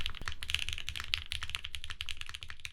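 Rapid, close-up computer keyboard typing fills the whole stretch, a dense run of crisp key clacks and taps with an even rhythm and no voices.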